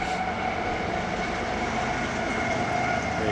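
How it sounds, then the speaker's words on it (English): A train passes near a high school lacrosse field, its steady loud rumble and rolling clatter running continuously with no voices. "can hear the trains going by."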